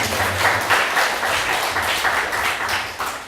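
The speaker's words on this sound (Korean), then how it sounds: "다시 한번 낭송을 해주신 두 분께 큰 박수로" An audience applauds two poetry reciters at a citizens' literature talk event, a steady wash of many hands clapping that holds for the whole stretch, fairly loud and continuous.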